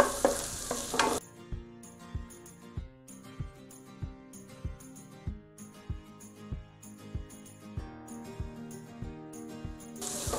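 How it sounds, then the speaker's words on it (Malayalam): Shallots for beef kumbanadan sauté in a pan, with a regular series of sharp spatula knocks and scrapes over a soft sizzle, close up and without speech. "ചെറുള്ളി ഏകദേശം ഒരു രണ്ട് മിനിറ്റ് വഴറ്റിയാൽ മതിയാവും."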